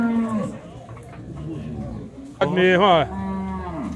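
Cattle moo at a livestock fair where calves are penned in a corral. A lowing moo opens the clip, and a louder, close moo sounds near the end. Someone talks over the animals.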